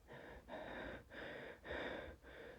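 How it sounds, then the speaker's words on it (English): Heavy, rhythmic panting after a fight, a breathy cycle of about five loud gasps repeating steadily and close up, with no talk over it. "And then Deku's panting."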